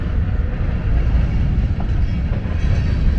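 A westbound CSX freight train led by BNSF locomotives and hauling hopper cars rolls past at close range, a loud steady rumble of wheels and cars with faint clickety-clack, and no talking.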